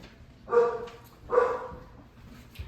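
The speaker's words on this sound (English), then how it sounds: "I can have the dog participating." A dog barks twice, two loud, evenly spaced barks close by, against a quiet background.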